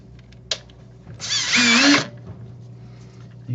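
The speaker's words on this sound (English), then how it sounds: "I've never taken a drill to a camera." A Milwaukee power drill whirs in one loud, steady burst of about a second while taking apart a DSLR camera, with small clicks and clatter before and after.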